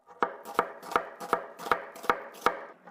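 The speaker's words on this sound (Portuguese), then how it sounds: "Em seguida, vamos cortar as cebolas. Primeiro corte ao meio e depois fatia assim." A knife slices onions on a cutting board in seven even, crisp chops spaced about a third of a second apart, close and clear against a quiet background.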